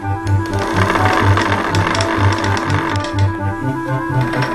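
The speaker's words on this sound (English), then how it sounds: "You then stretch the slivers into yarn on a spinning wheel." A spinning wheel twisting wool slivers into yarn runs with a steady, close mechanical rhythm of repeated soft clattering pulses.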